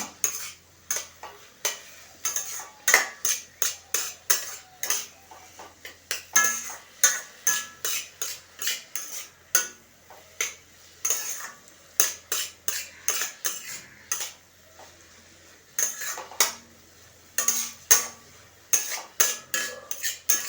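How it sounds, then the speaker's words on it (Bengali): Cauliflower filling for paratha stirred in a pan, a rapid series of loud scraping strokes and clanks of a utensil on metal in an irregular rhythm, close by, over a faint sizzle, with no one speaking. "এটাকে আমি একটু 2-4 মিনিট নেড়ে চেড়ে তৈরি করে নেব"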